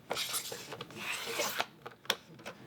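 Paper being trimmed for a punch-art card project, giving dry rubbing, rasping cuts with a few sharp snips and taps near the end, close and fairly quiet with no talking.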